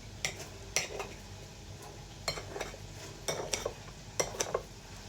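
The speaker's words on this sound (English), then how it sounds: "Then we're going to cut the sausages up." A knife clacks against a plate or board while sausages are cut up, giving sharp irregular clinks in small clusters of two or three, close and clear over a faint background hum.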